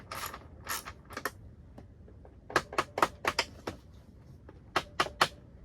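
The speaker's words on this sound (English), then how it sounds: "I'm tapping it just to kind of break the tightness of it." A bolt on a Boysen rad valve, a reed valve assembly, being tapped loose with a few sharp metallic ticks in short clusters, close and clear against quiet background.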